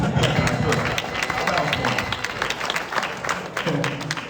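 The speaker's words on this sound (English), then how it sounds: "Yeah, you can clap for him." Steady applause from an audience at a press conference in Atlanta, Georgia, dense clapping filling the space throughout, with some crowd voices mixed in.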